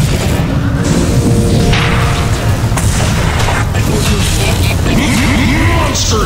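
A Dota 2 match with a tower under attack: dense, loud battle booms and impacts pound continuously, layered with crashing hits and a busy game backdrop.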